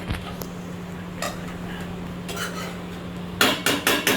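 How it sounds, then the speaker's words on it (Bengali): A utensil scrapes and clinks against a pan while pointed gourd and prawns are stirred and sautéed with spices, with a low steady hum underneath and a few louder clanks at the end. "আর এই রকম করে করে অনেকক্ষণ কষাতে থাকবো যাতে পটল আর চিংড়ির মধ্যে বেশ ভালো করে ইয়েটা ঢুকে যায় মশলাটা"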